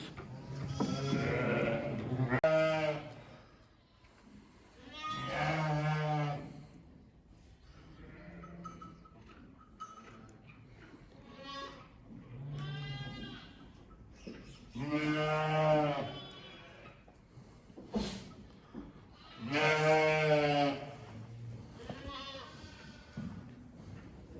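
Sheep and newborn lambs bleat repeatedly in a farm barn at lambing time. Several animals call at once, some near and loud and some fainter, in overlapping wavering cries with short pauses between them.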